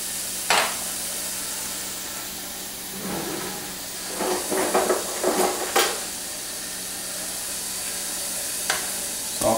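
Turkey breast cooking with garlic, salt and pepper in a pan with no oil, a steady hiss of sizzling with occasional clatters and scraping stirs in the middle.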